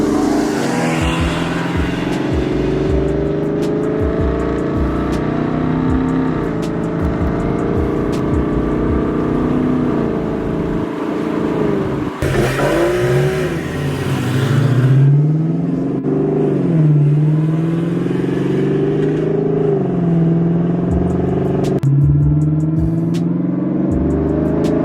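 Porsche with a 6-speed manual driving on the road, its engine a steady loud drone with rising and falling pitch as it revs through gears, continuous throughout with no talk.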